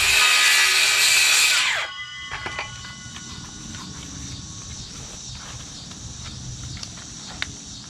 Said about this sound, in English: Now I need to cut a coupler and get my circular saw for that,